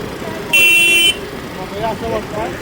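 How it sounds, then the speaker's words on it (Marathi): A car horn honks from behind in road traffic: one loud, steady blast of about half a second over engine rumble, with faint voices nearby. "मागून हॉर्न मारतायत"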